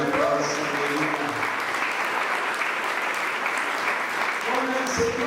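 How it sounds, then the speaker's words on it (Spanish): Church congregation applauding steadily throughout, a dense continuous clapping that stays loud from start to finish, with brief voices speaking at the edges. "Venga, aplauso."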